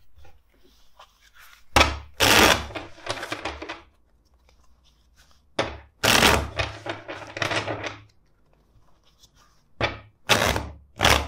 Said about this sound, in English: let's shuffle the deck four times for you